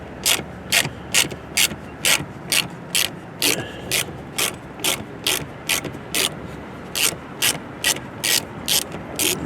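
A ratchet clicks in steady bursts as it backs out factory screws on a 2024-2026 Cadillac XT6, the sharp pawl clicks repeating in quick rhythmic runs for the whole stretch, close and clear with no talk.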